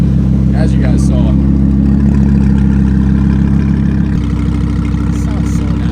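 Audi R8 V10 Plus engine idling with a loud, steady low rumble and light revving, close by, with voices briefly audible over it.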